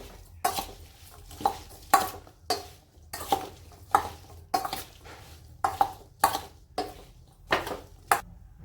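Chilli pickle with spices and lemon juice being mixed by hand, heard as a regular series of sharp scraping strokes of a spoon against a bowl, about one every half second, close and clear with no talking.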